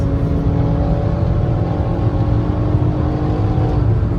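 A Haval H6 PHEV in sport mode accelerates hard on the open road, a loud, steady engine drone with rising whine and road noise, heard from inside the car.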